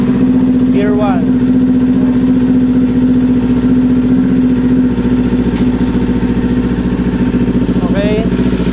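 A Kawasaki Ninja 400 motorcycle sits in first gear as the clutch is slowly let out, its engine droning steadily and loudly up close. A person talks over it, and some brief chirping sounds can be heard.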